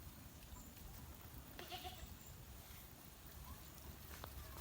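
A goat on a rural homestead during a rainy spell gives a brief, faint bleat that sounds distant and quiet against a soft, steady background hush.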